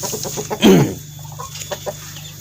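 Free-range village chickens in a breeding pen, four hens and a rooster, cluck close by in short repeated bursts, with one louder squawking call rising above the steady soft clucking.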